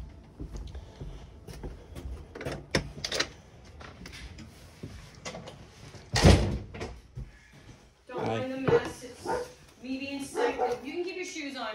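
A dog barks and yips inside a house, short sharp bursts scattered through the room, with people talking nearby toward the end.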